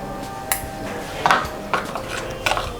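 Tamarind juice, ajwain powder and salt stirred together in a bowl, a few sharp clinks and scrapes of a spoon against the bowl, brief and close, spaced irregularly with quiet gaps between.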